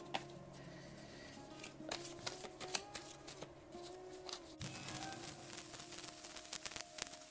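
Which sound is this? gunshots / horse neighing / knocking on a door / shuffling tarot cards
shuffling tarot cards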